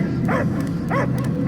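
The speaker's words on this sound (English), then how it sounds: "I hear only barking." A creature barks twice in the video game Guardians of the Galaxy, a pair of short, close bark-like yelps over a low, steady background rumble.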